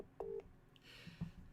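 Telephone dialing tones beep in short, distinct bursts on a call that goes unanswered, faint and isolated against a quiet background.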